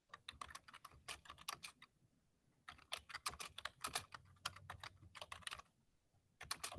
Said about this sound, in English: I hear something, a keyboard sound